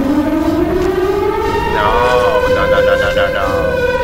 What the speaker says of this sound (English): Hello, Siren Head.